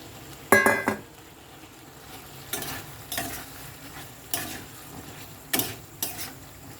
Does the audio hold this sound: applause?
no